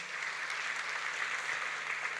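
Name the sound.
audience applause for a film director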